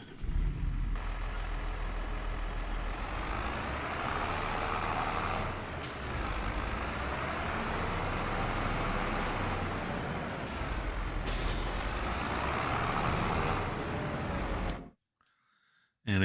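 A vehicle engine in Farming Simulator 25 drones steadily up close with a throaty rumble and wavering pitch as it revs, brief hissing bursts at moments, cutting out near the end with no talk.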